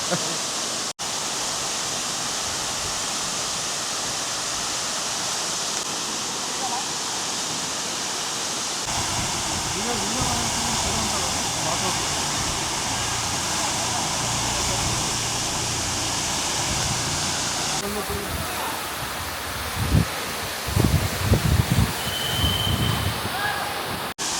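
Devkund waterfall near Pune in Maharashtra, water falling with a constant broad roar close by, steady for the whole stretch, with a few abrupt shifts in level and brief handling bumps near the end.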